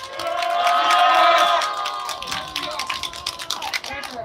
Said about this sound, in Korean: 재학생들을 위해 박수 한번 쳐주시면 감사하겠습니다.